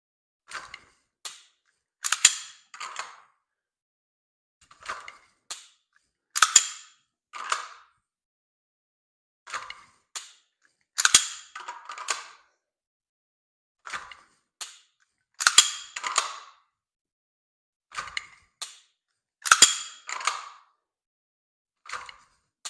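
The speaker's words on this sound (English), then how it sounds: "Even when you're dry firing, you want to still work on that speed." Sharp metallic clicks from a pistol during dry fire practice come in short irregular clusters of two or three, with silence between groups and no talking.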